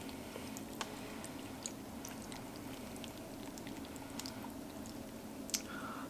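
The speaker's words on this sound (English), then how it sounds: "So you just pH the water, and then I just pour it in." Water trickles and pours into a container of LECA clay pebbles, giving a soft continuous wash of splashing and crackling with scattered small clicks and pops, close and fairly quiet.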